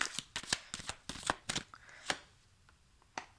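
A deck of cards is shuffled by hand before the final card of a reading is drawn, a series of quick, crisp riffling bursts up close that grow sparser toward the end.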